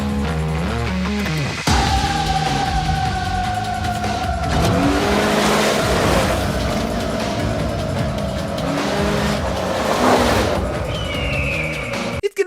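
Powerful car engine revs hard and roars past with tire squeal and skidding, loud and close, in a Super Bowl commercial, with music and effects layered in.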